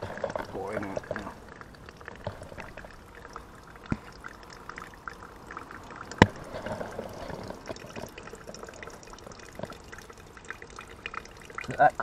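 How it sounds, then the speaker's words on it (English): Fuel drains from the carburetor of a leaking Zontes Tiger 125cc motorcycle, a soft trickling pour with faint drips, quiet and close, alongside a person talking and a few light clicks. "Drain that carb. Pouring out now."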